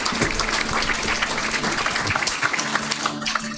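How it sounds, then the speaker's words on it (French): A congregation at a fiftieth-anniversary celebration of ecumenical catechesis applauds with steady, dense clapping, a low background hum running beneath it throughout. "nous les applaudissons"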